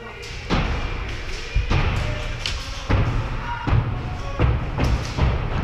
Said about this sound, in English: All the banging noise you hear are the Reapers slamming their axes on the wall